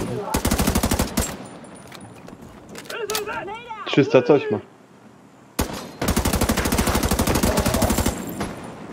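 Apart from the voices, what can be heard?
rifle gunfire in video game The Division 2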